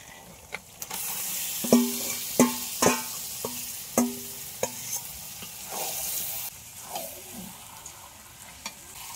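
Chicken pieces added to fried spices in a pot on a village clay stove, a run of sharp metal clanks and stirring scrapes over a steady sizzle, close and clear, then settling into quieter frying with no talking.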